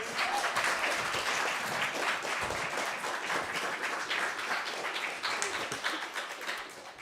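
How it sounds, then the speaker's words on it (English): An audience applauds steadily for about seven seconds as several young people walk up to a stage at a community event, a dense, continuous wash of clapping that tapers slightly toward the end. "Give them a round of applause as they make their way to the stage."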